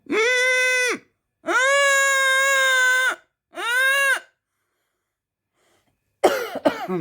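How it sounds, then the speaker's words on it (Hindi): Three long, sustained vocal tones of Ujjayi pranayama breathing are held one after another, then after a pause someone coughs harshly a few times. "खांसी उठ जाती है"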